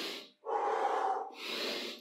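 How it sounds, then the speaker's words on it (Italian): Breathing in and out through nose and mouth during a beginner cardio HIIT workout: a short inhale, a pause, then a longer breathy exhale and another breath, close and fairly quiet, with no talking. "Iniziamo ad attivare respirazione naso e bocca."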